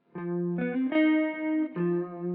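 Electric guitar with a delay effect set to mimic reverb, playing a few clean sustained notes and chords that ring into each other with a smooth tail, loud and alone.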